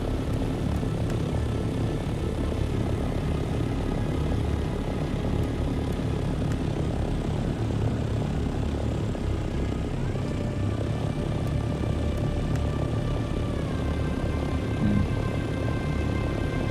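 An ornithopter flies in the Dune Awakening video game, giving off a loud, continuous engine drone with a propeller-like hum and steady tones that shift slightly in pitch partway through.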